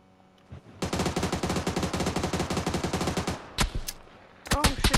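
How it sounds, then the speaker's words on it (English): Rapid automatic gunfire in the PUBG video game on the Vikendi map rattles in a long steady burst of evenly spaced shots, then a pause followed by a few more scattered cracks and bangs. "somebody's shooting at us."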